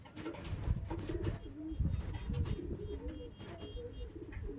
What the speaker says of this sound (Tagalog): Nauna yung ibon ni Tol Andre.